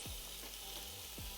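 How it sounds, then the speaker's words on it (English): Pork searing in a pot hisses and crackles in a steady, dense sizzle close up, with a couple of brief low knocks from stirring and no talk over it. "You guys hear the pork sizzles?"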